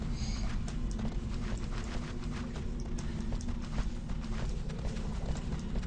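A horse gallops with steady, rapid hoofbeats in the Shadow of the Colossus video game, the clip-clop running continuously under a dense, droning game soundscape with no talking.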